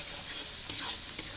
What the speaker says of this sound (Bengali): অল্প হলুদ গুঁড়ো দেব, অল্প পরিমাণে একটু গুঁড়ো লঙ্কা দেব, ভালো করে কষিয়ে নেব।